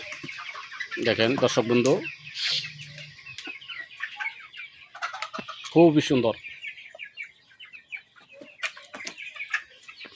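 Chickens at a poultry farm, raised from machine-hatched chicks and sold, cluck repeatedly in close, loud bursts, with softer chirping between them. Someone talks over the birds.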